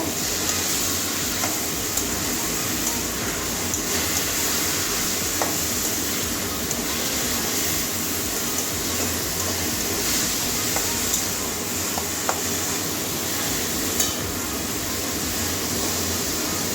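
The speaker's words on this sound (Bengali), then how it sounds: "গরম মশলা দিয়ে ভালো করে কষিয়ে নেব" Bottle gourd being stirred and fried with garam masala in a pan: a steady, continuous sizzle with scraping stir strokes. It stays even and close throughout, with no talk.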